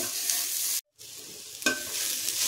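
Bitter gourd (boda kakarakaya) fries in a pan with a loud, close, steady sizzle. It cuts out briefly to silence, then resumes with a sharp stir-scrape and continuous crackling.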